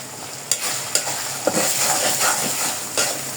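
Ground spices of salt, turmeric, chili and coriander fry in a pan with beef liver, a steady close sizzle broken by rhythmic scraping stirs roughly every half second, no speech.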